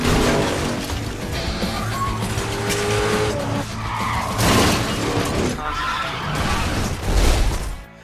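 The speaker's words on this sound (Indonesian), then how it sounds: "Terlihat ia mengendarai mobilnya ke dalam sebuah mall." A car from the action film Crank skids and screeches as it is driven into a shopping mall, with loud tire squeals, engine roar and crashing impacts building toward a final smash, with music or voices underneath.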